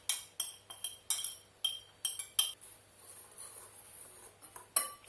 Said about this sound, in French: maintenant, on va mélanger la farine, le sucre, et donc les zestes